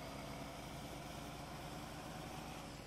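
Simulated Ram Dually pickup truck engine idling in Farming Simulator 19, a low steady rumble with a constant drone and no revving, quiet and unchanging with no talk over it.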